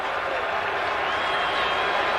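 A stadium crowd at a Padres–Mets baseball game at the Mets' home park roars and applauds steadily for manager Buck Showalter acting as bat boy, a dense continuous wash of cheering throughout.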